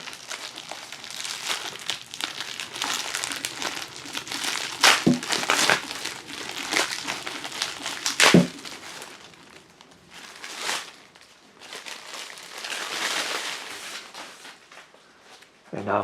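Plastic wrapping around a 30x20 cm photo canvas is torn open and crumpled, giving loud, close crinkling and ripping bursts with a few sharper tears and brief pauses.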